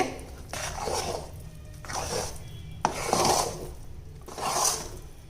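A thick ghee-rich Mysore pak mixture is stirred in a pan, giving four rhythmic rasping scrapes of a spoon against metal, each a second or so long, with short pauses between.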